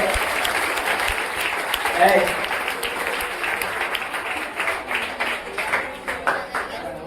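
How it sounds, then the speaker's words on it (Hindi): Students at a Teachers' Day function in a coaching centre hall in Barbigha clap loudly, a dense, sustained roar of many hands that keeps swelling and continues without a break. "आप अपने लिए एक बार जोरदार ताली बजा लीजिए"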